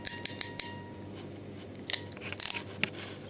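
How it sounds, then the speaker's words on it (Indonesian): A crimping tool presses an RJ45 connector onto a network cable, giving a cluster of crisp, close clicks and snips, then a couple of sharper crunching clicks later on, fairly quiet and with no speech. "tekan sampai berbunyi klik"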